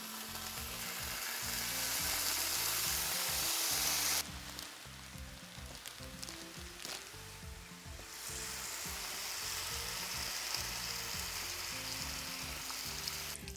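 Bacon strips frying in a pan, a steady close crackling sizzle that carries on throughout, briefly dipping in level partway before returning, with no talk.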